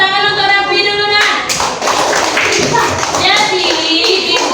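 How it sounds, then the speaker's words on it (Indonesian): Classroom children clap for Raffi with a burst of quick, close claps mixed with children's voices, starting after a child's spoken line. "tepuk tangan untuk Raffi dulu nah"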